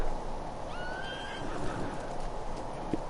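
A horse whinnies in the game Ghost of Tsushima, a rising, stretched neigh heard at mid distance over steady outdoor ambience, with a soft thump near the end.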